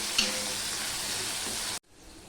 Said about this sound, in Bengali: এবার আলুটাকে আমি ভেজে নেব ঢাকা দিয়ে দিয়ে।